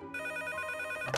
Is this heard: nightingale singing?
no